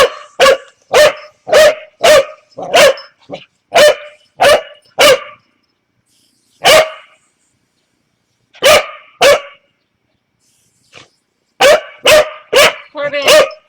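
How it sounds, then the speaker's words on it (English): A puppy barks outdoors in loud, close bursts, rapid runs of sharp barks broken by short pauses and a few longer gaps. "No barking."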